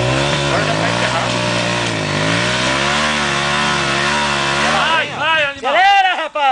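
A JMC dirt bike stuck in mud on a trail near Santa Maria, its engine revving hard and steadily at close range, then sputtering and surging in uneven bursts with excited voices shouting over it.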